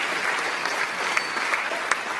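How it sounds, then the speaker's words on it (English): Steady applause fills a homecoming awards show audience, a dense even patter of many hands clapping with a few sharper claps standing out, continuous and fairly loud throughout. "Another round of applause."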